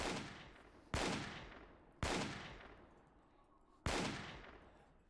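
Rifle gunfire from the video game Lobotomy Corporation: four sharp, loud shots at irregular intervals, each bursting across the whole range and trailing off in a long reverberant decay before the next, with no talking over them.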